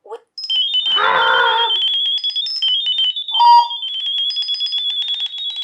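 A rapid sequence of high electronic chirps and warbling beeps from a phone, a sound-wave pairing signal for a camera, plays for several seconds, with a brief voice and a short lower tone partway through.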